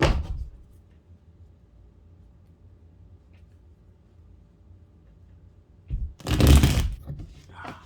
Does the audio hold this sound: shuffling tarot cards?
yes